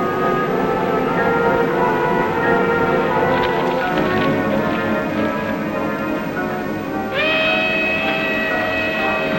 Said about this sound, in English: That's a westbound train.